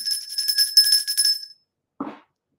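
A small notification bell rings with a quick cluster of bright metallic tinkles for about a second and a half, then falls silent before a brief soft knock.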